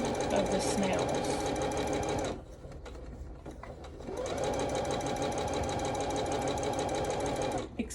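Sewing machine stitching sashing onto a quilted table runner, a fast close mechanical whir that runs, stops for a couple of seconds, then starts again.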